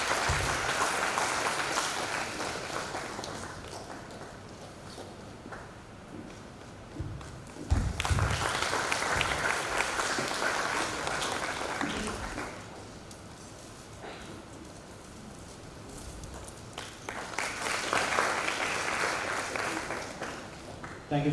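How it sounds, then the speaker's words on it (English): An audience at an agriculture and forest rights conference claps a loud round of applause for a professor. The clapping rises in waves and stays dense for about twenty seconds, and there is some talk in the room. "Let's all receive Professor Kannan with a huge round of applause"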